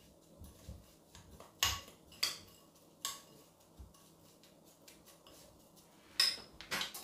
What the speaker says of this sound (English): I'm gonna add some melted butter and combine it together.